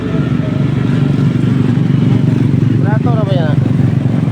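A motorcycle engine drones steadily close by while people talk over it, with a brief rising whine near the end as it moves.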